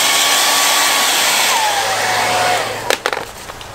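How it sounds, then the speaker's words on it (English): A shop hair dryer blows hot air steadily for several seconds, a loud, close whooshing hiss with a faint whine, before cutting off amid a few sharp knocks. "we're gonna warm it up a little bit with the approved shop dryer here"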